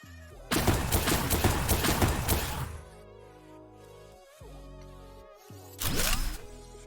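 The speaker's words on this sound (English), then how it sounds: "let me just get all the bullets out of that gun real quick" A gun in Blacklight Arena fires a rapid, loud burst of shots for about two seconds, then a few quieter game sounds, then a second short burst of gunfire near the end, with no talking.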